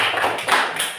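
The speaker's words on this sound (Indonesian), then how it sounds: "Tepuk tangan kelompok 1" A group of children claps together in a quick, close burst of steady applause during a church class quiz, with rapid overlapping hand claps and no talk.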